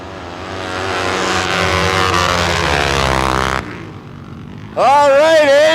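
Flat track motorcycles in a Pro Expert race sweep past with a loud rising engine whine that cuts off sharply, then a fresh burst of revving engines after a short lull.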